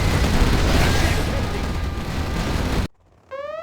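Aurora bomber payload blasts in C&C Generals Zero Hour roar as one long, loud rumbling explosion that cuts off abruptly, followed by a short rising electronic tone.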